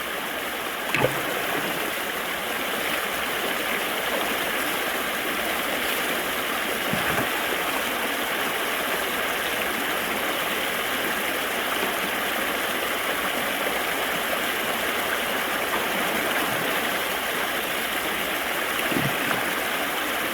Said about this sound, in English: Those bigger rocks, they just tumble right down that sluice.